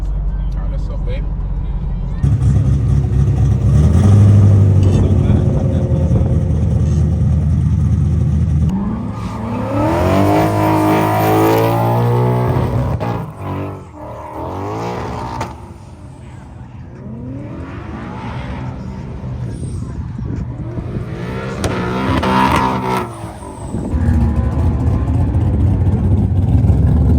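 Drift cars rev hard and race at a drift event, engines swelling loudly with rising and falling pitch as they pass, while people talk over the noise throughout.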